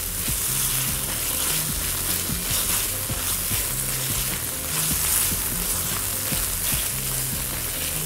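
Onion, garlic and ginger fry in a pan and are stirred, a steady loud sizzle broken by regular scraping strokes of the spoon, close and continuous with no talking.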